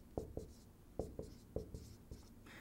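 A pen or marker writes out math equations in short scratchy strokes, several close separate scribbles with small pauses between them in a quiet room.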